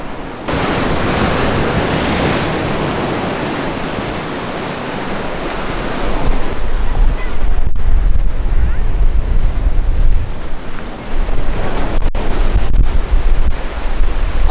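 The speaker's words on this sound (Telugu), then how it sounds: "ఇక్కడ చూడండి అలలు." Sea waves on a Pondicherry beach form a continuous loud surf roar that swells into heavier crashing surges in the second half, with wind buffeting the microphone.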